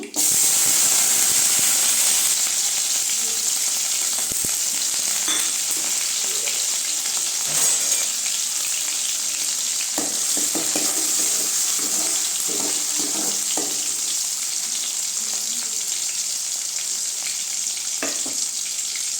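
Fennel seeds and onion fry in hot oil for a sardine curry, making a loud, continuous close-up sizzle with bubbling spatter and occasional stirring knocks throughout.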